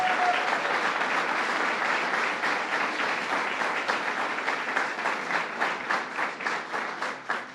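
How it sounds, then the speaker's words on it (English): Dense, loud audience applause fills the room at a bill signing ceremony for a plastic bag ban in Kingston, holding steady before thinning into separate claps near the end. "Let's give him a round of applause."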